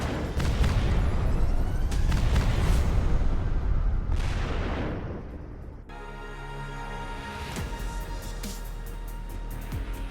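A Dana self-propelled howitzer (SpGH Dana) fires heavy artillery rounds: loud, booming blasts with rolling broadband rumble that carry on for several seconds, followed by a sustained mechanical roar. No talking is heard.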